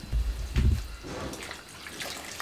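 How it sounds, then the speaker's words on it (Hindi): Water dripping and trickling from soaked pakoris (dumplings for dahi bhalla) as they are squeezed by hand, heard as a couple of soft, wet, close squelching bursts followed by faint dribbles, with no talking. "ये हमने पानी में भिगो दिया था 10 से 15 मिनट पहले। इसको इस तरीके से निचोड़ेंगे"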